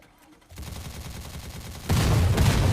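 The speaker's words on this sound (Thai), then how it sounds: "กูยิงไม่หยุดนะกูยิงไม่หยุดนะ" Rapid, unbroken automatic gunfire from the player's weapon in a prison-escape game, starting after a brief quiet and growing louder and denser partway through.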